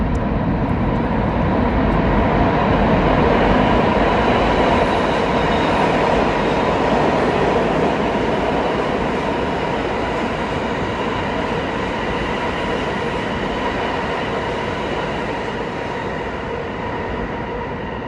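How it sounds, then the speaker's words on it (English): A subway train rumbles past loudly and continuously, a steady roaring clatter that slowly eases off, with no voices. "Noah, here come the next train"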